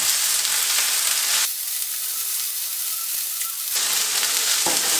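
Ingredients for huitlacoche soup sizzle in a frying pan, a loud steady hiss of frying that drops briefly to a quieter crackle and then flares again, close up with no talk.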